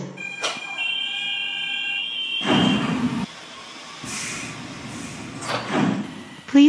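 Door closing chime on a new airport transit train, a tonal multi-note signal sounding near the start, followed by bursts of rolling train and door noise and a second chime-like tone later in the stretch.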